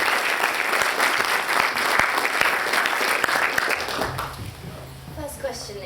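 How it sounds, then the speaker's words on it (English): Audience applause for a speaker at a university union interview, sustained hand clapping from a room full of people that thins and tapers off toward the end while faint voices and room noise remain. "give him a big round of applause and thanks for coming here tonight."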